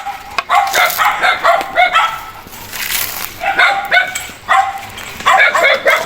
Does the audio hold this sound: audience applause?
no